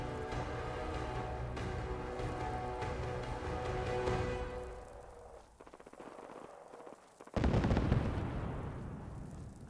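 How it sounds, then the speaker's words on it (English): Explosions boom in the Point Lookout area of Fallout 4, a sharp heavy blast near the end rolling out after a stretch of sustained tonal game music and a few muffled thuds, with no talk. "I hear explosions in the distance."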